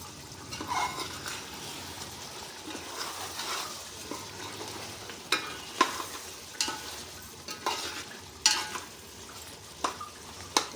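Chicken palav made with basmati rice bubbles and sizzles in a pot while a utensil scrapes and stirs in repeated sharp strokes over a soft simmering background.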